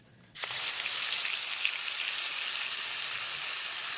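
A sudden loud burst of sizzling as wet onion paste hits hot oil for chicken malai kofta, then a steady, dense frying hiss that continues without a break.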